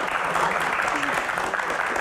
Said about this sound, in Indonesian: bolehkah minta tepuk tangannya untuk yang belum menikah?